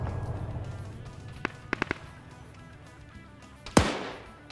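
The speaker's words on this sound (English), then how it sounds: "Another missile launch. That is the Dragoon firing again." Dragoon anti-tank missile launch in a video game: a few faint crackling pops, then one loud blast with a trailing rushing roar that fades over the final second.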